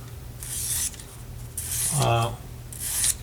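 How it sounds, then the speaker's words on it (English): Sandpaper scrubs a small metal bezel to clean it before soldering, in three short rasping bursts close by with brief pauses between them. "I got my sandpaper and just clean it a little bit"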